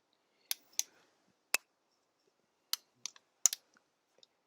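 Tripod legs are folded out, making a handful of sharp, close plastic-and-metal clicks in an irregular rhythm, some single and some in quick pairs, against near silence.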